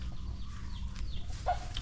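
Chickens cluck softly and intermittently in a backyard garden with banana and mango trees, one short cluck standing out near the end over a low steady outdoor hum.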